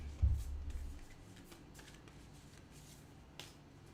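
A deck of tarot cards shuffles briefly and softly up close, a quick riffle near the start followed by faint rustles and a small tap in a quiet room.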